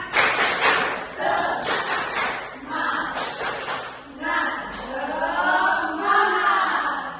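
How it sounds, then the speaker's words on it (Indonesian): A class of children stands and performs a rhythmic spirit clap in a classroom, bursts of clapping mixed with their chanted voices and a teacher speaking between the beats. "Tepuk semangat."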